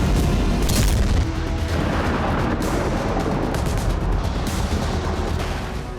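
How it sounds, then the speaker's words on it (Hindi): Heavy bombing in Rafah, with dense, loud booming blasts and rumbling explosions rolling on continuously and sounding distant and washed out, no voices heard. "राफा में आईडीएफ ने बमबारी की तो एक साथ कई इमारतें मलबा बन"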